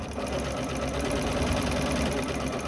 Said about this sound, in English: I'm just going to sew all the way around here. So I'm just sewing exactly on the line.